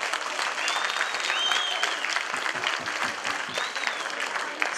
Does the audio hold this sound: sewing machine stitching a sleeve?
no